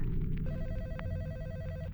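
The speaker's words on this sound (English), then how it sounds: "I heard a phone ringing from somewhere inside the house" Telephone ringing somewhere inside a house, a rapid electronic trilling ring repeating steadily over a low rumbling background, moderately quiet and alone without talk.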